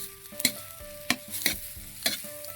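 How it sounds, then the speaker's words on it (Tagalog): A spoon stirs food in a cooking pan outdoors, scraping in four sharp, irregular strokes over a low, continuous sizzle. "Haluin natin."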